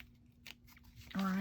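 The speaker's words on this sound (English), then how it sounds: "I'm just doing that to make sure that I cut straight." Scissors snip through junk mail paper in a few soft, close cuts, with a voice talking over the last part.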